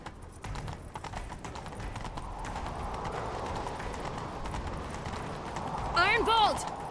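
Hooves clip-clop at a steady running rhythm as a horse gallops in The Witcher 3, with a brief whinny near the end, all under continuous in-game speech and background ambience.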